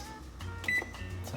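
An oven timer being set for cupcakes gives a short electronic beep over a low steady hum, one bright tone standing out near the middle of the brief stretch.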